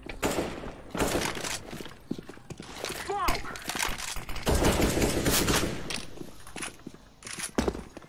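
Rapid gunfire in a shooter video game, with bursts of shots and sharp impacts scattered across the stretch, mixed with people talking over the action.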